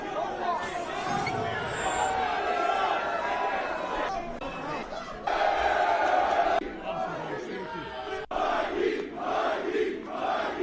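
Rowdy crowd at a UFC 297 press conference chanting and shouting in surges, with babble and nearby voices talking over the noise and a few sharp breaks.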